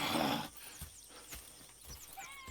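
Horses in the video game Red Dead Redemption 2 give a loud whinny at the start, followed by fainter snorts and hoof clops against quiet outdoor ambience.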